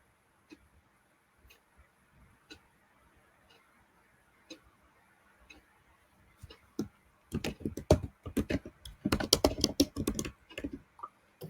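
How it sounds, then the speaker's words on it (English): Computer keyboard typing: sparse isolated key taps at first, then a dense rapid flurry of clicking close to the mic in the second half, with faint background noise. "I hear a lot of typing."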